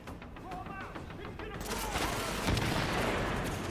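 A grenade thrown and exploding in the video game The Division, a loud rumbling blast bursting in midway and trailing off amid scattered gunfire, under faint game noise.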